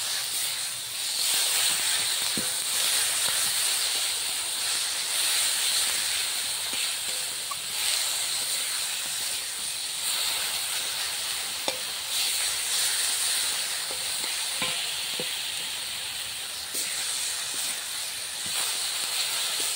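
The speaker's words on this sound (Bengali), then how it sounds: "ভালো করে কড়ার মধ্যে কষিয়ে নেওয়া হচ্ছে" Fish sautés in oil in a kadai, a steady hissing sizzle throughout with occasional soft taps and stirring scrapes, close and moderately loud.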